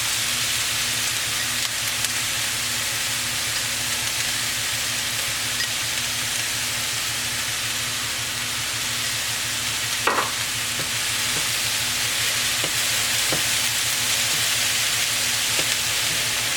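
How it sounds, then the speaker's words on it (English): Turkey kielbasa, poblano peppers, onion and taco seasoning sizzle steadily in a pan, a dense continuous frying hiss with occasional scrapes and clicks of stirring, close and unbroken for the whole stretch. "This is basically just to stir this up for a couple of minutes"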